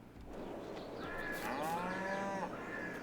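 Cattle at a cow barn in Farming Simulator 22 moo in a couple of long, drawn-out calls over steady farm ambience, moderately near and clear, with no talking.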